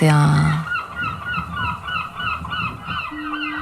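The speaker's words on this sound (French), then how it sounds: "quand j'entends les mouettes, je vois l'horizon" Seagulls call with repeated harsh, wavering cries that carry through the whole stretch. A brief low tone opens it and another steady tone enters near the end.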